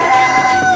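A short, loud rooster crow, close up, a single brief call with a strained, tonal quality.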